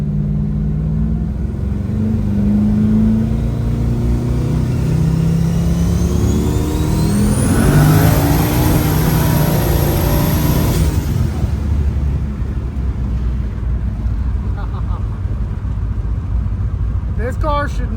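Hotrod Ford Fairmont accelerating hard, its engine rising through a long loud rev with a high whine climbing over it, then easing off; the roar dominates throughout, close and sustained.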